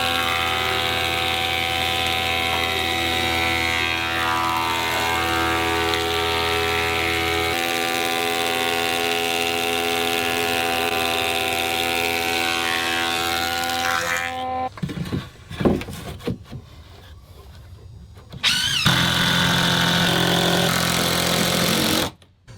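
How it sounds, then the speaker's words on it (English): A wooden board for old cabin porch siding feeds through a thickness planer, a loud motor whine with a strong harmonic drone that lowers in pitch partway through, breaks off briefly, then returns and cuts out. "I'm going to run it through my planer and make it the same thickness as these,"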